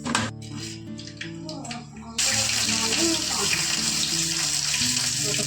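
Water gushes hard from a tap in a home kitchen during cooking. After about two seconds of quieter clatter, it bursts on suddenly and keeps up a loud, steady, close rush to the end.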